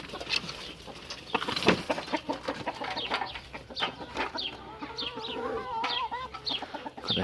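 Large hens cluck and chatter close by in a coop, with irregular bursts of calls and some scratching and rustling between them.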